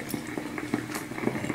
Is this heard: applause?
no